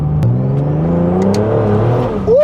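A turbocharged BMW E36 with a swapped ZF 8HP automatic gearbox accelerates hard, engine pitch climbing steadily and smoothly before a quick upshift, loud and close with no talk.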